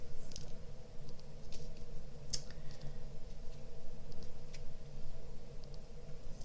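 Small hard plastic diamond painting drills patter and click as they're poured, a light scattered rattle over a steady low background hum.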